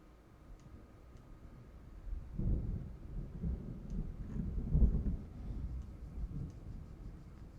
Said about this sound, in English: oh, it's a storm